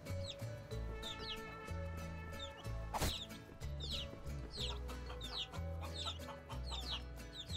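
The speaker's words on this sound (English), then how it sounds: "I think I just killed that chicken." Repeated clucks from a chicken in Guacamelee 2, loud and up close, set against a steady game music bed with one sharp hit in the middle.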